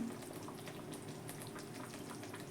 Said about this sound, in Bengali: আমি এবার ঢেলে ফেলছি